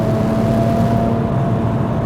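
A Porsche 997.1 Turbo engine pulls hard in third gear at around 5,000 rpm, a loud steady turbocharged roar with a constant tone, close up and without talk.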